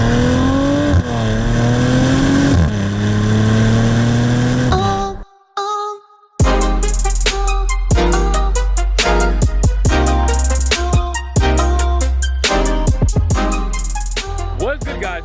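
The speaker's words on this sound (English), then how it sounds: "give you guys some exhaust notes, right?" A 2020 Maserati Levante SQ4 GranSport's exhaust revs loud and close with rising and falling engine sweeps, then cuts out to a brief near-silence before returning as a run of sharp, choppy blips and pops over a steady idle rumble.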